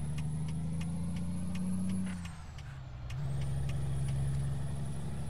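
Heavy truck engine in American Truck Simulator giving a deep, low-RPM growl that dips briefly in the middle before the steady drone returns, close and loud with no voices.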